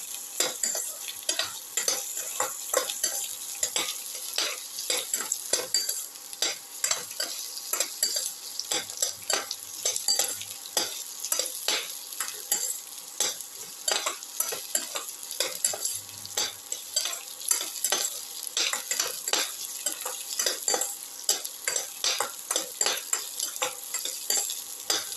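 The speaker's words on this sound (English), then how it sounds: "Saute the ginger and the garlic" Ginger, garlic and shallots sauteed together in a pan, with rapid, continuous spatula scraping and stirring over a steady frying hiss, close and sustained throughout.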